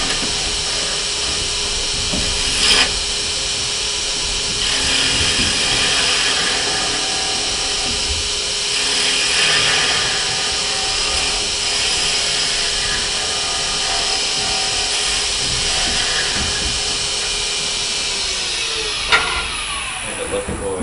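A spindle gouge cuts wood turning on a lathe, producing a continuous loud whirring hiss with a steady motor hum and occasional sharper scraping bursts throughout.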